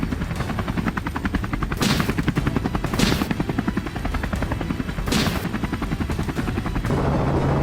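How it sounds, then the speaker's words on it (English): During a wild boar hunt on a Texas farm, a helicopter's rotor chops in a rapid, loud pulse throughout while bursts of gunfire crack out in several sharp volleys over it. "the helicopter blades slicing through the air, and the gunfire mixed with the roar of the engines"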